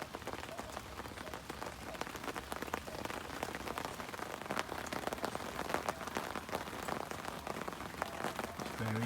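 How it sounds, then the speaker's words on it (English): Heavy rain pours steadily onto a wet park lakeside, around a wooden fishing platform, a dense continuous patter of drops striking surfaces close by, with no talk. "Absolutely raining cats and dogs."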